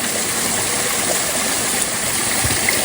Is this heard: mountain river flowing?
yes